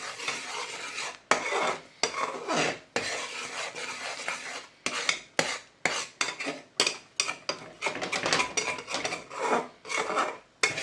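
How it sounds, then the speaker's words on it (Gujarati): Fresh green coconut sweet mixture stirred continuously in a pan over a low flame: close, repeated rasping scrapes of a spoon against the metal in an uneven stroking rhythm. "એકદમ હલાવતા રહેવાનું છે આવી રીતના."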